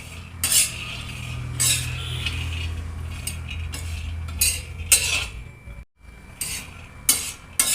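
Peanuts are roasted and stirred in a kadhai, with a metal spoon scraping and clinking against the pan in repeated bursts over a steady low hum, close and fairly loud.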